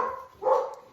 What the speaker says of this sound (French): Mes chiens ne sont pas contents.